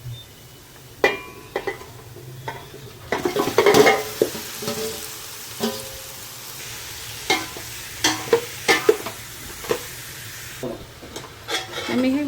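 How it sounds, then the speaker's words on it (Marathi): Mutton is added to browned onions in a pan and stirred, steady sizzling under repeated scraping and clinking of a spoon against the metal, close and fairly loud, no talk. "आता यामध्ये आपण मटण घालून घेणार आहोत"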